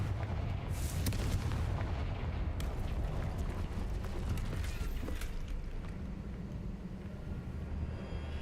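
A Confringo blasting spell explodes in Hogwarts Legacy, a loud, booming blast with crackling debris up front, then a sustained rumbling roar that slowly thins out.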